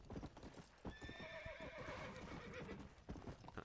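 In the Western video game Red Dead Redemption, a horse lets out a loud, drawn-out whinny over rapid clip-clopping hooves as it breaks into a gallop, with the hoofbeats continuing after the neigh fades.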